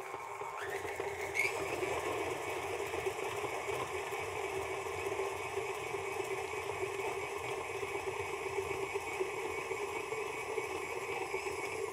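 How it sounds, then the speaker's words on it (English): A KitchenAid stand mixer creams sugar and margarine on a low speed, a steady close motor whir with even mechanical hum running unbroken throughout, no voices. "Your stand-up mixer will have a variety of speeds."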